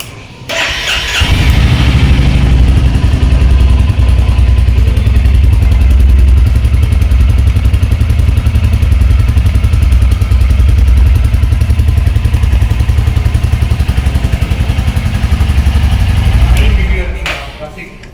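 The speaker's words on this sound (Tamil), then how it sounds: "ராயல் என்ஃபீல்ட் கிளாசிக் 350 வந்து ஸ்டார்ட் பண்ணிவிட்டு அதோட சவுண்ட் எப்படி இருக்குது" A Royal Enfield Classic 350 motorcycle engine fires up and settles into a steady, loud, thumping idle close by, running for a long stretch before cutting off.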